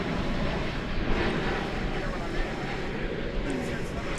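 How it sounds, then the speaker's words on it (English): An American Airlines Airbus A321neo arriving at DFW Airport from Phoenix gives a steady, broad jet roar that holds evenly throughout without clear peaks. "American Flight 1887 arriving from Phoenix"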